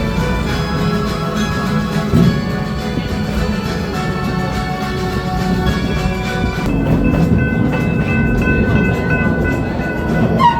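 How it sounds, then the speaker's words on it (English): Busch Gardens Williamsburg park train rolling across a trestle, a loud continuous rumble of wheels and cars with steady rattling, clacking and sustained tonal hum throughout. "As we cross the trestle, please keep your hands, arms, and loved ones inside the train cars."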